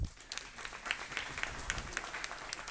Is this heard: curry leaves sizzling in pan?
no